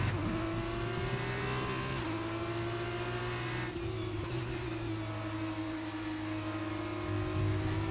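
Formula 2 race cars at Monza, a sustained high engine whine from cars racing past with shifting pitch and brief changes as they pass, continuous and fairly near throughout with no voices.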